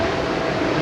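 An airplane taking off from an airport near Cairns, a loud steady broadband engine roar filling the short moment with no voices.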